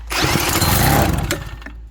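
A log splitter's engine, fitted with a new carburetor, roars to life with a rough, throbbing mechanical drone that cuts off after about two seconds.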